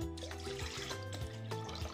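Three cups of water poured into a clean bowl in a Cebu kitchen, a faint continuous trickling fill under a steady hum of background tones with no talking.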